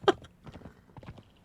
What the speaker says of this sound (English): Sorry, you get Indiana Jones while we ride a horse.